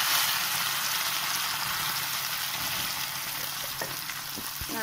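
Beef vada mixture frying in oil gives a continuous close sizzle throughout, with a few soft taps of stirring near the end.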